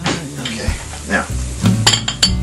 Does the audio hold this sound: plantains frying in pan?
yes